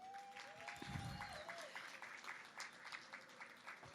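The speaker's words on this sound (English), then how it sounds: "Can we give JJ another round of applause" A small audience at a chamber of commerce Business Before Hours morning event gives scattered applause, faint and somewhat distant, with individual claps clearly separate over a few seconds.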